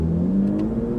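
A BMW S55 engine with an Active Autowerke equal-length exhaust, as on an M4 GTS, revs with a steady, loud, raspy drone close by, holding constant for the full second with no talk.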